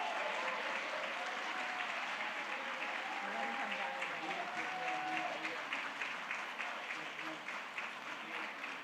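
Audience applause after a sung Ganesh chant at a Diwali 2022 gathering, dense steady clapping filling the whole stretch with a faint voice or whoop drifting over it.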